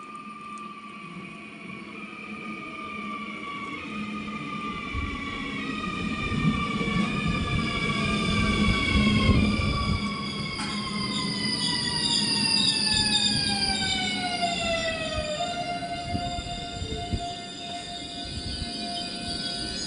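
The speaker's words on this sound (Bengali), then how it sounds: "দেখতে দেখতে ট্রেন মনে হয় এতক্ষণে চলে আসছে" A train pulls into a European station on a cold day, its rumble rising and then easing off while squealing wheels slide downward in pitch as it slows, fairly distant and heard with no talk.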